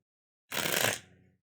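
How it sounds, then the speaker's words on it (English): One short riffle of a tarot deck being shuffled, a crisp papery burst lasting about half a second with a quick fading flutter at the end, close and alone in an otherwise quiet room. "Shuffle that."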